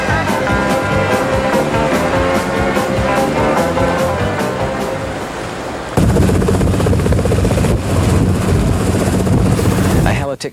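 A helicopter used for crew training flies near and loud, its rotor giving a steady rhythmic thudding and a constant engine roar. The sound swells partway through, and voices speak under the noise.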